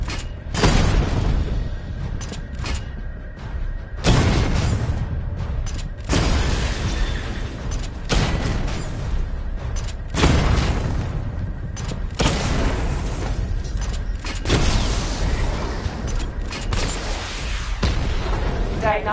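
Batmobile missile barrage in Batman: Arkham Knight, a run of loud booming blasts in repeated surges over nearly twenty seconds, with heavy rumbling between the explosions.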